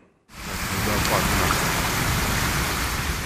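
Heavy rain starts abruptly after a moment of quiet and then pours in a loud, steady hiss as water runs down streets in Kstovo, with a voice speaking over it.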